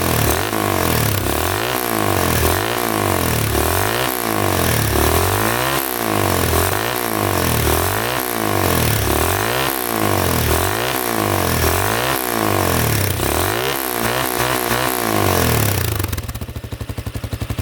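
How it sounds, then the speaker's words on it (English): A quad ATV engine that has just been fitted with new piston rings is revved hard about a dozen times in a steady rhythm, each rev rising and falling loudly and up close before the engine cuts off near the end. "Let me quick rev it up a couple times for you guys."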